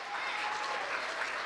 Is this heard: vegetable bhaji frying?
no